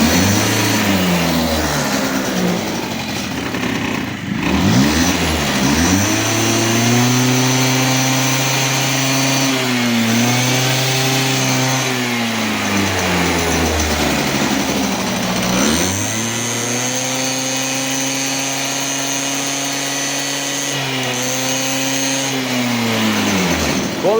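A small scooter engine with an electric choke idles steadily and continuously, its pitch dipping and rising slightly a few times without any talking.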